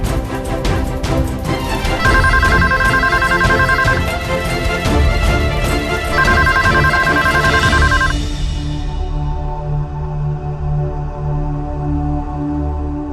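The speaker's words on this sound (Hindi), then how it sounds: "फोन उठा पीतो।" A telephone rings in a home, its electronic ringtone sounding in two loud bursts over a steady music bed that fades away toward the end.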